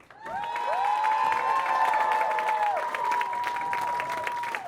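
Sustained arena applause and cheering from the audience for two finalists at a state band championship, steady and full throughout, with ringing horn-like tones sounding over the crowd.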